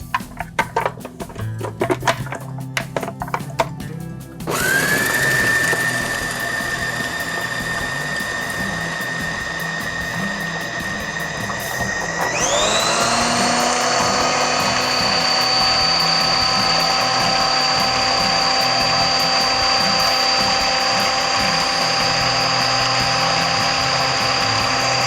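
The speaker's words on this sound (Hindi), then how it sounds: "पहले मैं चीनी ऐड करके थोड़ा सा तरबूजों को ब्लेंड करूंगी।" A blender whirs steadily as it purées watermelon chunks with sugar, the loud motor whine climbing to a higher pitch partway through and then holding there without a break.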